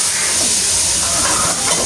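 Onions and fennel seeds sautéing in a hot pan give a steady, close sizzle and hiss that stays even and unbroken throughout, with no voices over it.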